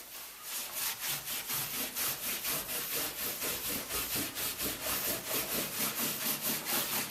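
Cheesecloth scrubs stain off the wood of a 1946 Chris Craft Brightside U22 boat in steady, rapid back-and-forth strokes, close and loud, a rhythmic rasping rub with no talking.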